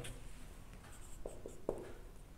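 Chalk or marker writing an interval on a board during a mathematics lecture: faint scratchy strokes with a few sharp taps, quiet against the room's hush.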